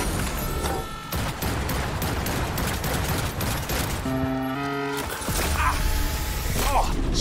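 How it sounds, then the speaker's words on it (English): Rapid bursts of gunfire from the video game Cyberpunk 2077, loud and dense with clattering mechanical and crashing effects, running continuously under an excited voice. "Shoot it! Please shoot it!"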